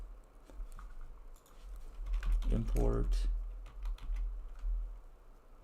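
Rapid clattering keystrokes on a computer keyboard during a live coding session, steady patter close to the mic, with a brief spoken word over the typing.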